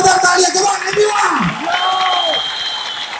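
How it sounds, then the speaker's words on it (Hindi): A stage-event audience claps and cheers loudly, with whoops and shouted voices rising over the dense applause. "मैं चाहूंगा एक बार जोरदार तालियां"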